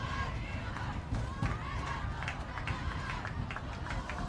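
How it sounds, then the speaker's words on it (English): A football crowd stomping their feet during a big third down at a high school game, Ozark at Republic, heard as a dense, steady rumble of thuds and noise with scattered cheers, with an announcer's voice faintly underneath. "Everybody's stomping their feet, making a lot of noise."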